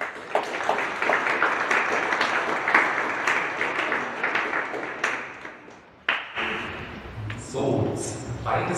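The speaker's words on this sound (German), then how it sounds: "einen kräftigen Applaus für euch" Church congregation applauding its helpers, sustained clapping for about six seconds that fades out, followed by a voice speaking.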